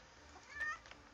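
A cat meows once in a video game, a short mid-pitched call alone without talk.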